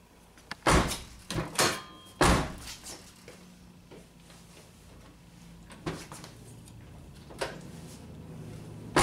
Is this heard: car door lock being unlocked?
yes